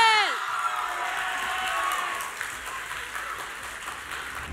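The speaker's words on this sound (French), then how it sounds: "applaudis bien, bien fort pour Forestside SSS Girls" Audience applause with some cheering for the Forestside SSS Girls team at a semi-final climate debate contest, a steady dense clapping wash that begins under the fading tail of a speaking voice and carries on evenly to the end.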